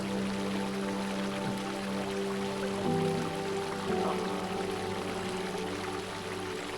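A small forest river runs steadily nearby, a continuous, even rush of water with faint splashing and no voices over it.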